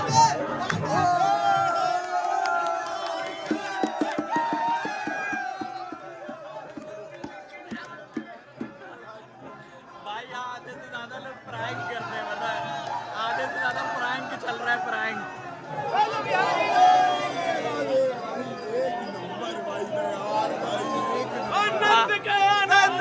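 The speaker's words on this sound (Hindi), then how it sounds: "भीड़ देख रहे हो, भीड़" Dense crowd at a Holi festival near the Banke Bihari temple, a steady hubbub of many voices chattering and calling out close around, continuous and loud throughout.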